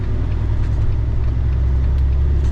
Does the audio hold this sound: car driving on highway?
yes